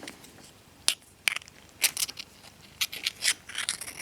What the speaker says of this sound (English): XLR male to female. You can see it clicks in. You can hear a nice hefty click.